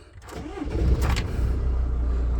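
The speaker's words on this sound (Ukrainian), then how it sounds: "це зараз цей автомобіль заведемо" A Mercedes Sprinter van engine cranks briefly, catches and settles into a steady low idle, heard close and alone.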